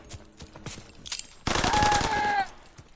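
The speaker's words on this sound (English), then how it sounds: "Enemy strafing run inbound." Aircraft strafing run in a PS4 video game: a dense, rapid burst of machine-gun fire lasting about a second, set against quieter background game noise.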